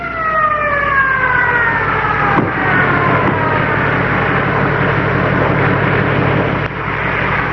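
A 1951 Evanston Fire Department fire engine working at a blaze: a siren winds down over a steady, loud engine rumble that drones on throughout, heard on an old film soundtrack.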